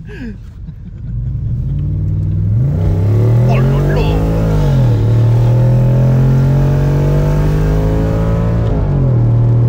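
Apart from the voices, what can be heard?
Audi S4 B7 engine revving while accelerating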